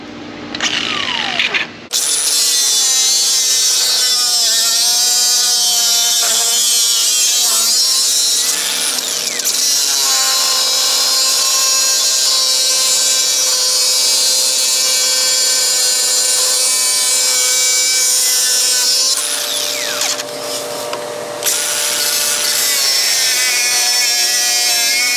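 A loud power tool cuts through suspension parts on a 2021 Toyota Tacoma with a sustained high-pitched whine and grinding, nearly continuous for about twenty-three seconds with slight pitch shifts as it bites in. It is close and no one speaks.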